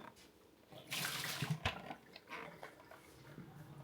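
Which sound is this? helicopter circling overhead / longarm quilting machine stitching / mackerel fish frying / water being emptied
water being emptied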